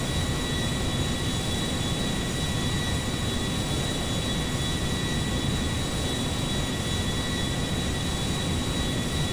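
An airplane flies in the GTA 5 video game, its engine a loud, steady, unbroken roar with no voices heard.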